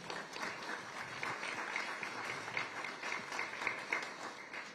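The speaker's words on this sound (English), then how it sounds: "if we could give them a round of applause" An audience at a roundtable event claps in a steady, fairly faint round of applause heard from a distance, with no voices over it.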